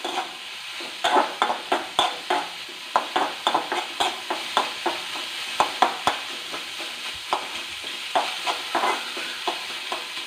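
Onions sautéing in a pan, with repeated stirring strokes scraping through a steady sizzle of frying at close range, no voices.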